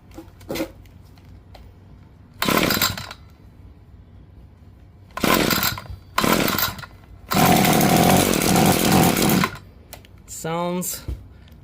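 An ECHO SRM-2620 string trimmer, a curb find being choked and pull-started: several short, loud bursts of cranking and sputtering, then the engine catches and runs roughly for about two seconds before dying, with a brief rising whine at the end.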